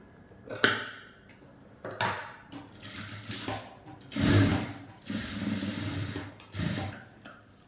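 A sewing machine runs in several short stitching bursts and then a longer steady run, sewing a neckline on a garment without piping. The bursts are close and fairly loud, with quiet pauses between them.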